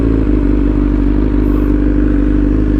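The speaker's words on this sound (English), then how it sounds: "So the bike sounds good, right?" A motorcycle engine idles steadily and loudly up close, a continuous low rumble with faint mechanical clatter and no talking.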